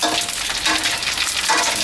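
Steady, dense sizzling of fish maw deep-frying in hot oil, loud and close, with a continuous crackling hiss and no voices.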